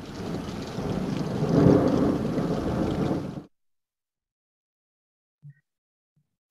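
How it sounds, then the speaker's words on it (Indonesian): A loud rumbling storm with dense rushing rain for a few seconds, then an abrupt cut to near silence with a couple of faint blips. "Tiba-tiba hujan turun dengan lebatnya, beserta sambaran petir."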